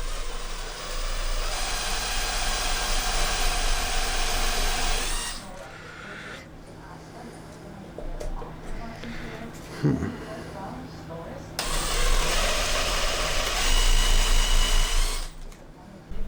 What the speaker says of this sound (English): I got this reamer bit here. I'm gonna attempt to see how it works